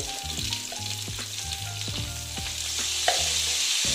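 Pointed gourd fries with turmeric in a pan, a close, steady sizzle with a few scraping stirs.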